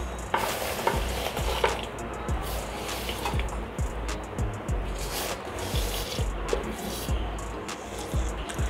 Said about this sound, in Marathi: आता ह्या खोबऱ्यामध्ये आपण हा जो गूळ आहे जो मी बारीक करून घेतला आहे तो घालून घेऊया